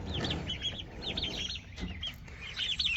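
Baby turkey poults peep in a series of high, thin chirps, fairly close and steady, alongside other faint bird calls in a farmyard enclosure.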